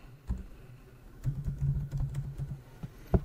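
Someone types a password on a computer keyboard: short bursts of soft key clicks, close and fairly quiet, with a brief run of rapid taps in the middle and a sharper final keystroke.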